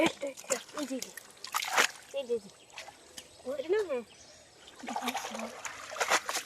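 A fishing net being washed in river water, with repeated splashes and trickling that come and go under nearby conversation, close to the listener.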